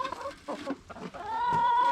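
Chickens at a feeder cluck in short, close bursts, followed by a sustained higher call at the end.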